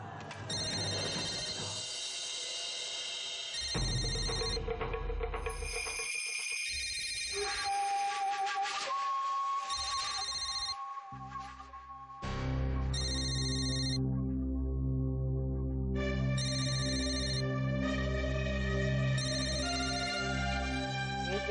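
An electronic phone ringtone plays a repeating melodic pattern, loud and clear, with brief pauses between phrases.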